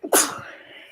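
A single sharp sneeze, preceded by a quick intake of breath, close and clear, then fading into quiet.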